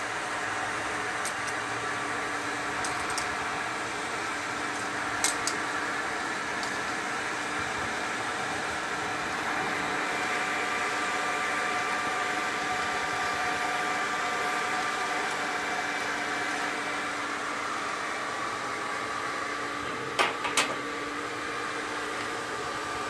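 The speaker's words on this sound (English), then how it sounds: "the hair dryer is to force the oxygen into the coals" Hair dryer blowing air into the coals of a small homemade forge, a steady broadband whooshing drone that holds constant throughout with a few faint clicks and taps, no talking.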